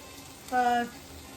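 Turkey albondigas (meatballs) fry in a pan with a soft, steady sizzle, quiet and close, while a short hummed voice sound rises briefly in the middle.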